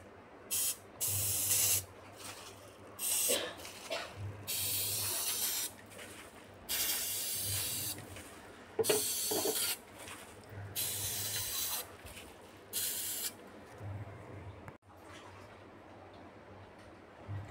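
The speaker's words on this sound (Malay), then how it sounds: "Okey, so saya sudah spray." Amway SA8 prewash stain remover is sprayed onto stained fabric in a series of about a dozen short, close hissing bursts separated by brief pauses.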